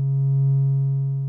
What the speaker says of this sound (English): There's the sine wave coming out of the primary.